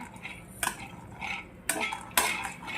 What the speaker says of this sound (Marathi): बारीक फ्लेमवर शेंगदाणे भाजले पाहिजेत असे भाजून घ्यायचे आहेत शेंगदाणे अलगदपणे